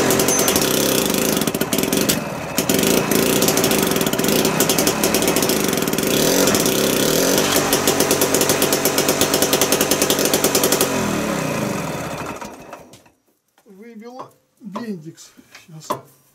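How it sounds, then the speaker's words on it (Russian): An engine cranks and runs roughly on hand throttle while being started, loud and close with a rattling, uneven beat before it dies away, followed by someone speaking. "Сейчас даю газу, на ручном газе топливной аппаратуры, и пытаюсь завести его."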